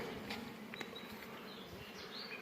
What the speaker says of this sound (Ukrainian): Бджоли кружляють, літають, носять мед.